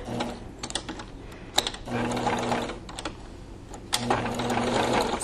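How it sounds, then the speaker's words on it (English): A sewing machine does straight stitching with a walking foot, making rapid, close, rhythmic mechanical chatter in several bursts separated by short pauses with handling sounds. "Same stitching, just the straight stitch with the walking foot."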